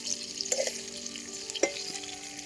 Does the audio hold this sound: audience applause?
no